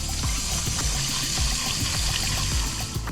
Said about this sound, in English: make sure you rinse your vegetables